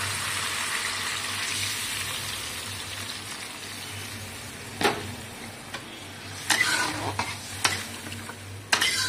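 Potatoes frying and sizzling in a pan as water is poured in, a steady broadband hiss with scattered sharp crackles and pops near the end, close and moderately loud, with no talking.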